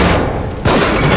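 A single sharp gunshot from The Evil Within video game bursts out midway through a short stretch of loud in-game noise.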